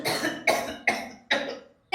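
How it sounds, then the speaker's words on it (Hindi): An old man coughs in four loud, close bursts, each a harsh broadband hack fading out, evenly spaced about half a second apart, followed by a brief silence. "तेरे इस बुढ़ा को है ना खांसा चल रहा है।"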